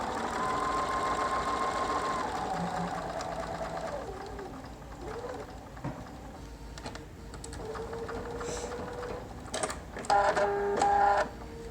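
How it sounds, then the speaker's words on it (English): A sewing machine stitches fabric strips on a diagonal seam from corner to corner, a steady mechanical whirring hum running continuously before a few clicks and a brief burst of quicker stitching near the end. "So I'm going to pop this up into the machine here. And I'm just going to sew from corner to corner."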